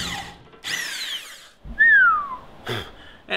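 A wood drill bit bores into an aluminium frame for an observation beehive, giving bursts of high whining and squealing in short separate runs, close and loud, with pauses between them.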